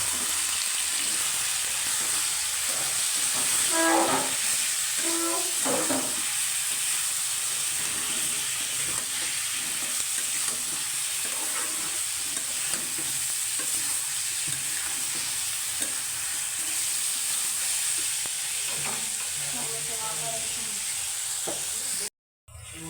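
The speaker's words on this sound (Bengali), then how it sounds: "ধনিয়ার গুঁড়া নাড়াচাড়া দিয়ে দেবো" Spoon stirring coriander powder through frying fish chochchori in a pan, a steady close sizzle with scraping strokes, continuous throughout.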